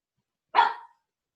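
A single short dog bark rings out outdoors in autumn, close and fairly loud, then quickly fades to silence.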